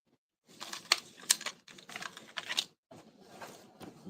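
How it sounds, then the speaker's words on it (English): Quick, close cuts through card paper while crafting a Paper Pumpkin greeting card, a run of crisp snipping and rustling bursts with brief pauses between them. "I'm gonna have to cut this very quickly."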